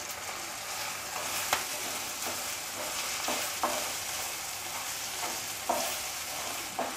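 Crushed ginger and garlic sauté in a pan with softened onion, giving a continuous close sizzle with periodic spatula scrapes and stirring knocks, no voices.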